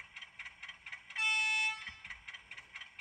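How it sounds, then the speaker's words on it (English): A single high-pitched horn blast from a PIKO HO-scale Whitcomb 65-ton model diesel locomotive sounds for about half a second over a steady, rhythmic electronic chugging loop. "You have your high tone horn"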